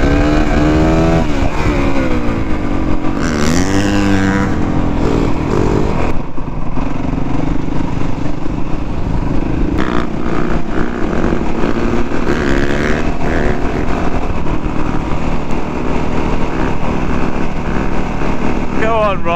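A Honda CRF 450 enduro motorcycle is ridden through hills, its engine note rising and falling with throttle changes under a constant loud rumble and rattle.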